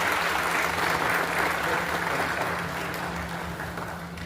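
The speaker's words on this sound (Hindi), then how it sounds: "एक बार जोरदार ताली बजा के" A standing audience at a public function in Bihar claps loudly to welcome Governor Arif Mohammad Khan: dense, continuous applause fills the whole stretch, easing slightly toward the end over a steady low electrical hum, with no talking.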